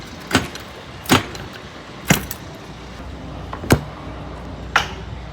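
A metal trailer seal being broken open at a power-only truck load: five sharp metallic snaps and clanks, fairly close, spaced about a second apart over a steady low background hum, with no talking.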